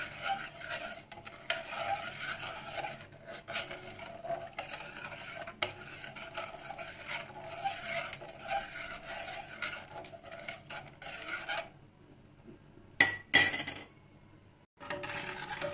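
A spoon stirs sugar into homemade lemonade in a container, giving a continuous soft scraping swirl with faint clinks. It stops briefly near the end, followed by a sharp clink. No voices.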